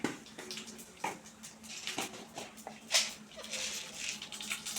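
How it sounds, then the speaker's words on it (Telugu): Mustard seeds drop into hot oil while lemon rice is being cooked. The pan gives close, uneven crackling and sputtering pops for a few seconds. "ఆవాలు వేసుకుందాం 1 స్పూన్."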